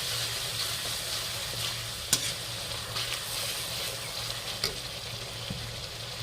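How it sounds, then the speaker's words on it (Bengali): Ground coriander and red chilli powder are stirred into frying tomatoes in a pan for a bottle gourd dish, a constant close sizzle broken by a few sharp spoon scrapes and taps. "একসাথে মিশিয়ে নেব টমেটোর সাথে।"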